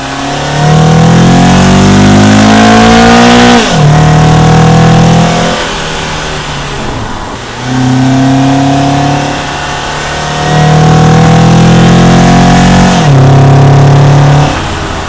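A stock-intake car accelerates hard from 0 to 100, loud and close, with engine revs climbing in repeated sweeps and brief dips at each gear shift.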